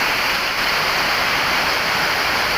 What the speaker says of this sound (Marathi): आज सकाळपासून जरा जास्तच पाऊस चालू आहे